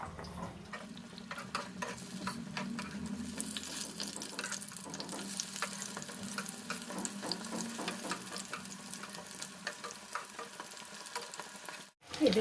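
Chili fritters (lonkar bora) sizzle steadily in hot oil in a home kitchen pan, with a continuous close crackle and occasional stirring scrapes, ending in a brief drop to near silence.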